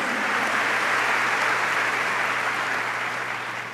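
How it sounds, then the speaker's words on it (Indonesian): A church congregation gives loud, sustained applause, a thick wash of many hands clapping that stays full and fades slightly toward the end. "Tepuk tangan yang meriah bagi Tuhan."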